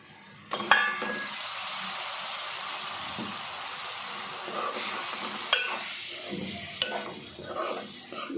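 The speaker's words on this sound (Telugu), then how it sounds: "ఇది బాగా తిప్పుకుని ఇందులో గుడ్లు వేస్తా" A spiced chili mixture with eggs being stirred in a pan for an egg curry, a steady sizzling hiss with a few sharp utensil knocks against the pan, close and fairly loud, no talking.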